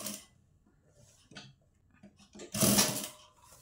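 A sewing machine stitches the corner of a katori blouse in short, quiet bursts, ending with one louder whirring run up close.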